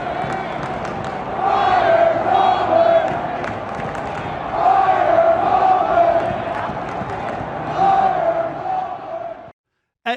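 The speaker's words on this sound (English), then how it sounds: "there was the Mike Tomlin booing" A large NFL stadium crowd lets out loud, sustained booing at a head coach in rising and falling waves, then the roar cuts off abruptly near the end.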